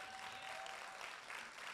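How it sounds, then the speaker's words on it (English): Applause from a community event audience welcoming drummers, a quiet, distant wash of clapping heard steadily throughout. "So I want to give the drummers in advance a round of applause,"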